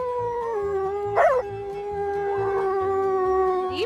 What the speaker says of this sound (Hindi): ये साइबेरियन हस्की है, इंग्लिश में साइबेरियन हस्की